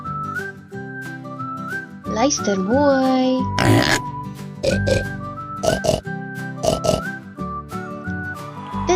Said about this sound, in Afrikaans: Dit is 'n vark.